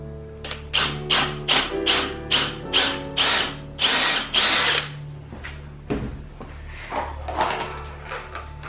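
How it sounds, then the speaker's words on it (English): Power drill bores a pilot hole for brass screws in a bookshelf, up close and loud, in a rapid series of short whirring bursts that build in length, then trail off into softer, scattered bursts. "I'm gonna finish the pilot hole for this."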